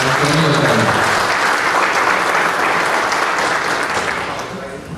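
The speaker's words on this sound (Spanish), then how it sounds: "traemos un fuerte aplauso" A crowd at a rural territorial development forum gives a strong, sustained round of applause, loud and dense throughout before tapering slightly at the end.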